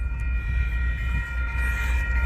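Union Pacific freight train led by locomotive #7337 with three distributed power units at the rear, rolling past as a steady loud rumble with a sustained tonal whine.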